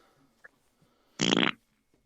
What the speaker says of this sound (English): that was a fart